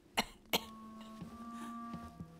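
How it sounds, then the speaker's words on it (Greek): An elderly woman coughs twice in sharp, close bursts, followed by a few softer throaty coughs and wheezy breaths in a quiet room. "Μα δεν είναι καλός αυτός ο βήχας."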